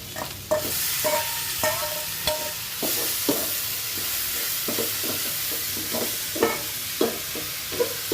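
Freshly picked greens hit a pan of fried onion and garlic and sizzle steadily while a spatula scrapes and stirs them in repeated sharp strokes, close and clear with no talking.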